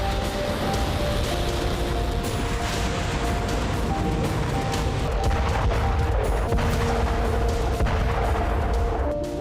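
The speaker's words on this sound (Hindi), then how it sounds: "यानी करीब 6 मिनट में ही ईरान की हाइपरसोनिक मिसाइल इजराइल में धमाका कर देगी।" Dense, continuous booms and crackling gunfire blend with missile explosions into a loud, unbroken battle roar with no talking.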